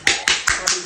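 Hands clapping in a steady rhythm, five sharp close claps spaced evenly within about a second.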